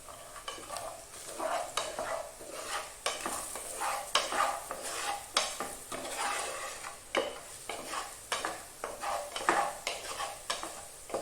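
A spoon stirs coriander powder and salt in a frying pan for hariyali chicken, making repeated close scraping strokes in an uneven rhythm over a soft sizzle.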